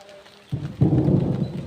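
Thunder rumbling loudly in the open during a downpour, a low rolling boom building in over steady rain noise that keeps up after it.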